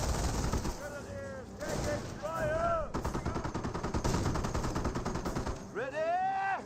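Gunfire in Company of Heroes, a WWII strategy game, with rapid machine-gun bursts and scattered shots crackling throughout, mixed with shouted soldier voices and whistling effects.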